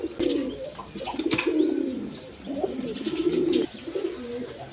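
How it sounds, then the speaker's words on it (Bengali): Red pigeons with crests coo in low, repeated rolling phrases close by, several bursts in sequence with faint higher bird chirps in the background. "এক পেয়ার রেড কালার গররা কবুতর আছে, খোপাওয়ালা"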